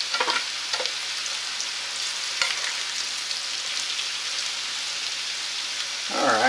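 Potatoes and onions fry in a pan with a constant dense sizzle and crackle, close and steady, with a few brief stirring clanks near the start and end.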